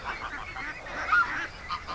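A busy flock of ducks gathered together, giving a continuous overlapping chatter of honking and quacking calls at moderate loudness, close by, with no speech.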